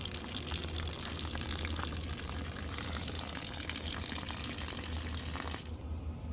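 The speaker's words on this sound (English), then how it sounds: "Let it fill up and we'll drain it once it's filled" Water rushes steadily into the tank of a Vevor 4.5 kW steam generator, a constant hissing flow that continues unchanged until the higher tones drop away near the end.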